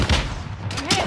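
A stun grenade goes off in a multiplayer video game during a house assault, a short burst of blasts with a sharp crack near the start and more pops toward the end.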